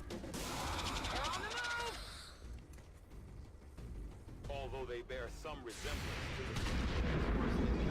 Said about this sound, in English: she got a shot off and actually hit the alien